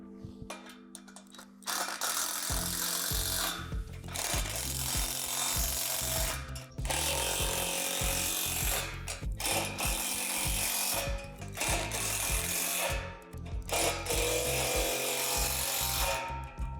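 Hardware on a Lifetime Adventure Tower playset is tightened with a ratcheting tool, with rapid clicking ratchet bursts separated by short pauses, close and loud over a wooden, rubbing mechanical texture.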